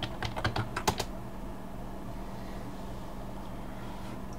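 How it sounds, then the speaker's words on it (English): A handful of quick keystrokes on a computer keyboard at the very start, a short burst of clicks, followed by a steady low hum of room noise. "And I need to put the password in."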